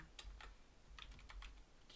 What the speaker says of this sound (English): I'll just type it in again